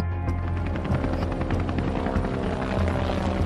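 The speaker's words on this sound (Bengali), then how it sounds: "তাকিয়ে দেখে যায় আকাশে 3টি হেলিকপ্টার ঘুরছে" Three heavy black helicopters drone steadily overhead, a loud continuous rotor thrum and engine roar with no pauses.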